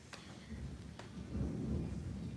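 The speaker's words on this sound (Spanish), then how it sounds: "A mí también le tengo miedo a los truenos" Low thunder rumbling faintly in the distance with a couple of sharp cracks, and light rain noise in the background, with no voices.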